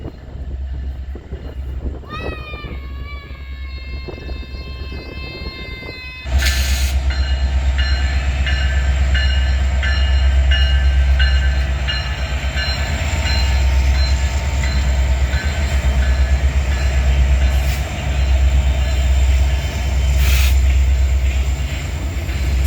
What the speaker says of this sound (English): an eastbound manifest approached the diamonds at slow speed. 3 Union Pacific EMDs and 1 Union Pacific GE were in the lead